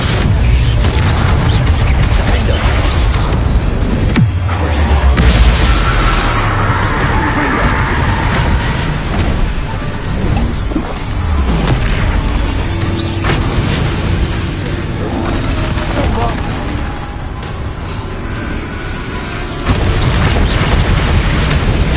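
A Confringo blasting spell explosion in the video game Hogwarts Legacy, a loud heavy boom that rolls into a long, dense rumble of game noise lasting the whole stretch.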